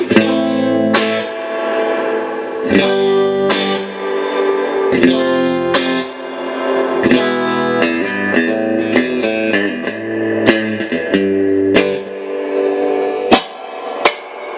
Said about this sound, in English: It's just crappy reverb.